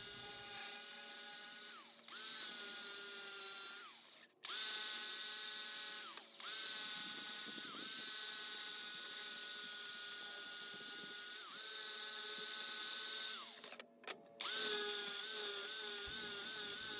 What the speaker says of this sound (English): Right here you can see me grind right down to that line and take out probably 3/8 of an inch at a very sharp angle.